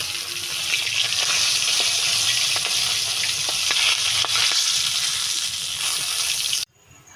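Close, continuous sizzling and crackling of a catla fish head frying in oil in a pan, with scattered pops, holding steady before cutting off abruptly near the end.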